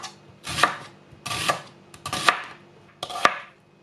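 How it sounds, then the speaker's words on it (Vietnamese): Garlic and shallots sliced with a knife on a cutting board, four distinct bursts of rapid chopping strokes at close range, each about half a second long with short pauses between, no voices. "80g hành tím cũng cắt lát luôn."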